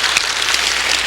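Congregation in a church service applauds together, a brief, dense wash of clapping that sounds steady and hiss-like, almost like rain, with no speech over it.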